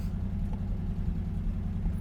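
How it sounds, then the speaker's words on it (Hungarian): Engine of a preserved, unrestored classic sports car, a Ferrari Dino or Maserati Merak, running with a steady low rumble and slight valve noise, even and continuous with no voices. "Kicsit szelep hangja is van, de ez nem baj."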